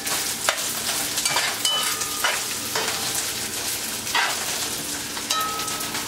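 Rice and shrimp sizzle and crackle steadily in a hot pan, with occasional scraping stirs and no talking.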